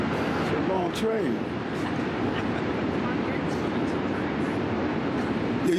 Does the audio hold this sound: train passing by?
yes